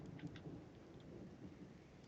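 Steady rain falling in the Total War: Warhammer 2 video game during an Empire campaign battle, a continuous broadband hiss with faint low rumbles, moderately quiet and without speech.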